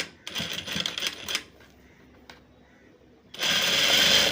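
A sewing machine stitches fabric hooks tape in two loud rapid runs, with a quiet pause of about two seconds between them.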